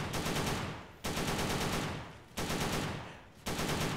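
Sustained bursts of rapid automatic gunfire from a video game, four long loud close volleys separated by brief breaks as the trigger is released.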